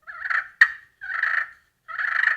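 Soft, purring clucks from a friction turkey call imitate a feeding hen, three raspy bursts with a sharper click between the first two, close and clear with no talking.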